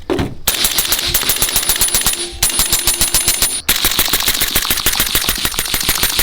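Rapid suppressed automatic fire through a B&T Mark 12 suppressor, a long continuous burst of fast, evenly spaced reports with a brief break near the middle, loud and close with no talking.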